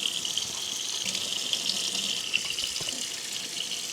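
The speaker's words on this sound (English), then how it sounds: "I'm just gonna rinse out the bowls, popsicle lick mat, as well as the treat mold." Tap water runs steadily into a sink while pet bowls, a lick mat and a treat mold are rinsed, a continuous close hiss and splash with faint clinks of the items underneath, no voices.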